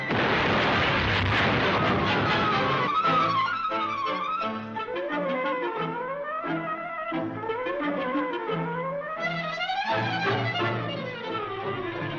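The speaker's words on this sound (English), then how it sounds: "He's dropping a bomb!" A bomb dropped from a plane in an old serial explodes with a heavy opening burst, followed by descending whistling tones and dramatic orchestral-like swells that continue loudly to the end.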